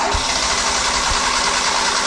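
A car engine is cranked and revved during a vacuum test, giving a steady, loud mechanical roar that stays close and continuous throughout, with no talking over it.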